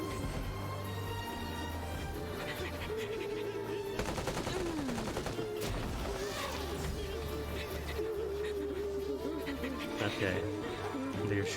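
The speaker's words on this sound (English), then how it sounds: "They're shooting stuff up in here too often." Rapid gunfire bursts crackle through a video game villain's lair, dense and continuous over a bed of game music and effects, with a voice talking over parts of it.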